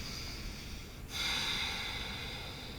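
One deep, audible breath is drawn in and pushed out through the nose during a morning yoga flow, close and fairly loud against a quiet room.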